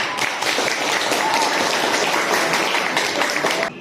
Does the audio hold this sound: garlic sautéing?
no